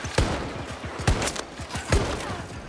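Gunfire in a Battlefield 2042 zombies mode match, a steady stream of sharp shots in quick succession with louder cracks punctuating the volley, sounding close and continuous.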